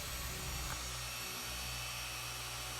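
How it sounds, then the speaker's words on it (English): A Griot's Garage 21mm dual-action polisher runs on car paint at a middle speed setting, a steady close motor drone with a low hum that shifts slightly in pitch partway through. "We're going to set it on between the 3rd and the 4th speed setting, just the weight of the polisher."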